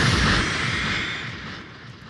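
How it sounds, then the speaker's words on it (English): Layered explosion and crash sound-effect samples, treated with delay, a little reverb and EQ, merge into one loud booming, rumbling burst that slowly decays and thins out. "extend the explosion sound here, the crash sound here, and then together they sound like this."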